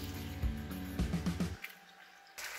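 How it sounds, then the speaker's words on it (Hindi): Water splashes and drips into a cooking pan holding tomatoes, turmeric and spices, a short gurgling pour with a few drips, then quiet. "इसमें थोड़ा सा पानी डाल लेंगे"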